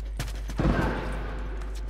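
Gunfire in The Last of Us Remastered multiplayer, a burst of shots near the start followed by a louder cluster of rapid fire, with scattered distant shots trailing off.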